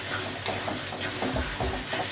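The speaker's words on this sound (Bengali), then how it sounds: "দিয়ে আমি এই যে মশলাটা ভালো করে কষিয়ে নেব।" Cumin and coriander spice paste frying and being stirred for mutton curry, a steady close sizzle broken by repeated scraping strokes of a spoon against the pan.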